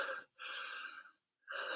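Heavy, labored breaths during a plank workout, three long rasping exhales and inhales close to the mic with brief pauses between, breathy and slightly wheezy.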